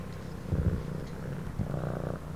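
A cat purrs close to the microphone in a soft, steady rhythmic rumble, faint overall and with no voices.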